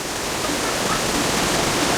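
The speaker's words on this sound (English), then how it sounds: "You get underneath this waterfall and you have this massive area down here" Large indoor waterfall at a public aquarium, a steady, dense rush of falling water heard up close with no voices.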